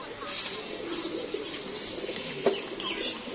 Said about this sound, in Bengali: এখানে 8 নাম্বার বাচ্চাটি আছে